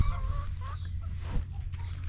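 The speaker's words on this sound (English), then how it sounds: "I hear you, laughing rooster." A rooster crows and clucks faintly in the distance, a short drawn-out call over steady low background rumble, with no talking.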